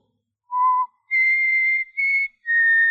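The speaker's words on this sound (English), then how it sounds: "I just whistled." A person whistles four short clear notes in a 1940s-style radio drama: one lower tone, then three higher sustained ones with brief gaps, heard alone with no other sound.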